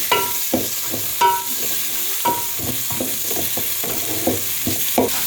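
Garlic, tomatoes and carrots fry in a pan as a spoon stirs them, sending repeated scraping strokes in an uneven rhythm over a steady close sizzle, with no talking.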